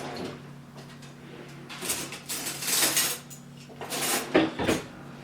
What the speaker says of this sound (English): Let me get a fork.